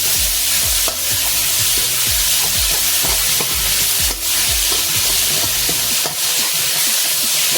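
Tomato paste mixture stirred in a hot pan in a home kitchen, a loud, bright sizzle with repeated scraping strokes of the spoon at a steady rhythm, close and continuous.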